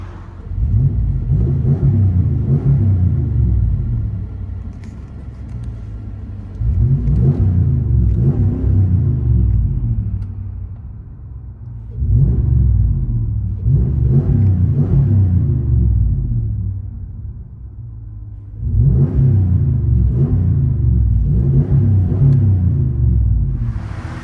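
Inside the cab of a 2016 RAM 1500 with a 5.7L HEMI V8 and Thrush exhaust, a deep, loud exhaust rumble swells in four repeated acceleration pulls, easing between each rise, with no talking.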